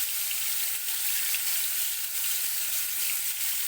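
Fish coated in masala frying in a pan, a steady, dense sizzle and crackle holding even throughout, close and alone.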